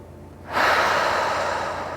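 One long slow exhale through the nose during yin yoga breathing, starting abruptly after a moment of quiet and then trailing off gradually, close and breathy.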